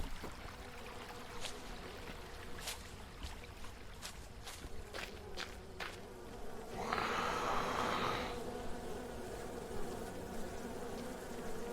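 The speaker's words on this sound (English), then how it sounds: "I assume those are bees?" Bees buzz in the horror video game Road to Hollow Hills, a steady faint insect drone with a louder, denser swell of buzzing partway through, under sharp intermittent clicks and ambient game sounds.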